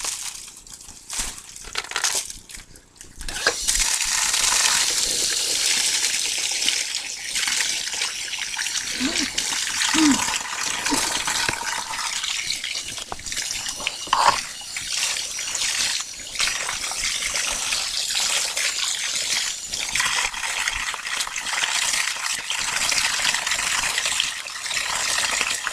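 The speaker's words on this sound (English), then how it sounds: "you're going to rinse all the excess dye out" Excess dye is rinsed out under running water, a steady close gush and splash that lasts throughout, with brief squeezing and dripping sounds and a voice faintly audible beneath.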